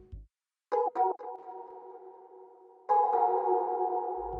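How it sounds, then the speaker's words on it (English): A soft bell synth from a trap beat, treated with simple reverb, plays solo: a few struck tones, then sustained ringing notes that fade, with a louder restrike near the end. "then we have our soft bell, just a reverb, nothing crazy, simple reverb"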